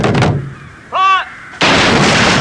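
Soldiers' muskets fire in a loud volley in a 19th-century war drama, a sharp burst at the start and a sustained roaring blast at the end, with a shouted voice between them.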